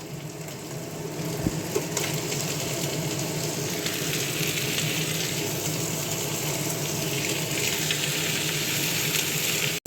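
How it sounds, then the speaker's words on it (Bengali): Onions added to frying chicken in a pan produce a continuous, loud hiss of sizzling that stays even throughout, with a brief clatter near the start. "এবার পেঁয়াজ দিয়ে দেবো"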